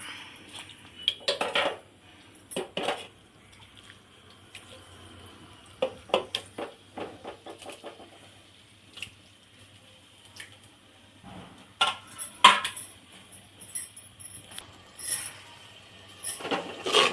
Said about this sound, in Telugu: ఇప్పుడు ఉల్లిపాయ వేసుకుందాం